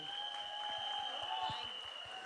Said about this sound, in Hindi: ताली बजा के दिखा दीजिए।